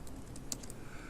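Typing on a computer keyboard while entering a search for a Node.js download, heard as a quick run of light, close key clicks with one sharper tap near the middle, no voices.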